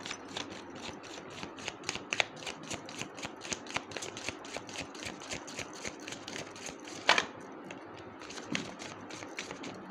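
Angel oracle cards being shuffled by hand, a quick regular riffle of soft slaps and flicks repeating close to the microphone, fairly quiet with no talk.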